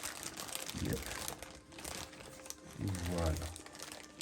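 Paper wrapping around a collectible figure crinkles in two short bursts during an unboxing, close and quiet, with someone speaking in between.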